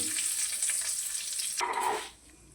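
Bay leaf and cinnamon crackle and sizzle sharply in hot oil, a steady close-up fry that suddenly quiets near the end.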